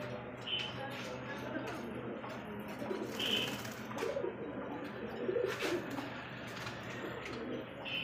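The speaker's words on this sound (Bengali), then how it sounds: "চমৎকার একজন কিন্তু বোম্বাই কবুতর" Bombay pigeons cooing in soft, repeated low calls over a steady background hum, with a few brief higher chirps scattered through.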